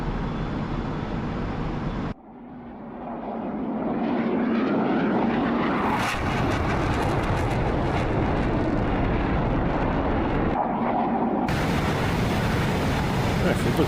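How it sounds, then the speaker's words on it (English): A MiG-29 jet in the DCS flight simulator roars past in a sustained loud engine rush that swells and shifts in tone, heard alone without talk. "A little flyby over, see what she looks like."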